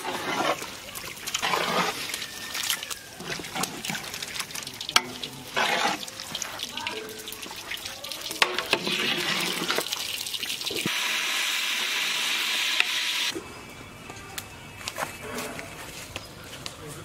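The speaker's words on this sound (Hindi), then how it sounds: "फिर से इन इंग्रेडिएंट्स को अच्छी तरह मिक्स करेंगे।" Mutton biryani marinade with fried onions being mixed by hand or spoon, giving a steady wet squelching and scraping with a louder hissing stretch partway through, close up and without talk.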